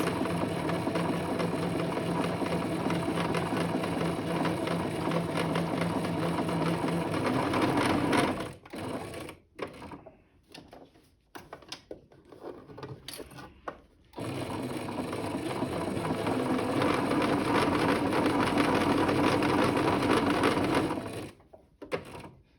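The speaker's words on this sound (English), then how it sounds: "just lift your presser foot and move your fabric a little bit with your needle down" Sewing machine stitching fabric for a menstrual pad, a close, rapid mechanical whirr running in long bursts with pauses and short stops in between.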